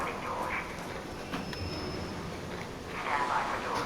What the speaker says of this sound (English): Train is on the platform. Opening doors.